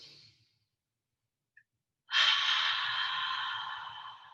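A long audible exhale during a children's yoga class, following a brief faint breath and silence; the breath swells suddenly, stays steady and fairly loud for about two seconds, with soft low rumbling beneath.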